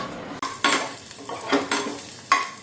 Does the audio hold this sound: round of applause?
no